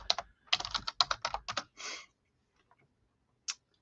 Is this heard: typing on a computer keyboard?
yes